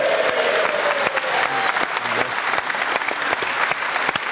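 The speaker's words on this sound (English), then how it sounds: "Yay! Great cheer." A large crowd at a rugby match roars and applauds a try, a dense continuous wash of clapping and cheering heard from within the stands, with a brief whistle-like tone early on.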